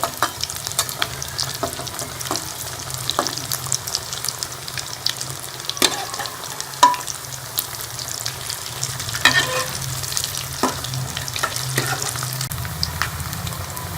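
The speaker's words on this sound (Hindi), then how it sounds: "इसके अंदर हम अपने कबाब फ्राई कर लेंगे" Shami beef kebabs frying in hot oil in a wok, a continuous close sizzle with repeated clicks and scrapes of a utensil turning them.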